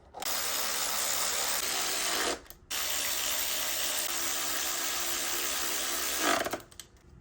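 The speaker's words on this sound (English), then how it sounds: "Put the last one there and just start screwing them down." A power driver runs steadily, driving screws down into a part on a Pontiac G6 in a loud, continuous whir that stops briefly once, then restarts and winds down near the end.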